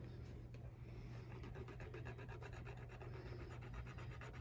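Coin scraping the black top layer off crayon-coated paper, a steady rhythmic rasping of quick repeated strokes, close and quiet throughout.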